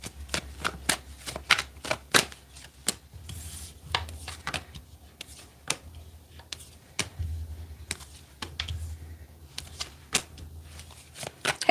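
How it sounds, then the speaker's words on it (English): Rapid riffling and snapping of a deck of tarot cards being shuffled, in repeated bursts with short pauses, close and fairly quiet, with no talking. "Get one more good shuffle."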